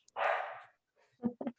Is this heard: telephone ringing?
no